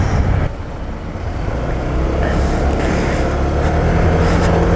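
A Honda PCX scooter being ridden along a road past greenery gives a steady engine hum mixed with rushing wind, loud and continuous throughout.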